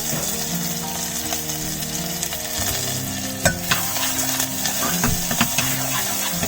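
Finely chopped onion frying in a pan with whole spices such as cardamom, cloves, peppercorns and cumin, giving a steady loud sizzle throughout with stirring scrapes and a few sharp spatula clicks, no talking.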